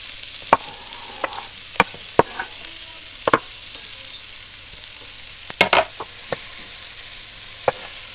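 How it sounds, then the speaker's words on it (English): Bacon pieces and chopped onions go into a pan for bourbon-braised bacon, with sharp clinks and scrapes of stirring scattered over a faint hiss; no one speaks. "I'm going to put these pieces of bacon back in the pan, and then I'm going to add some chopped onions"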